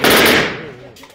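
A single loud, close rifle shot at an outdoor gun range, a sharp blast that fades into a short decaying echo.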